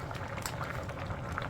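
Braised cutlassfish stew with tofu and sausage bubbles steadily in a pot, a continuous soft, close simmering burble with no pauses.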